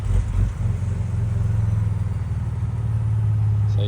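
A Ford Ranger Raptor V6 idles on its factory exhaust, a steady low rumbling burble that holds even and continuous throughout, close and fairly loud with no talking.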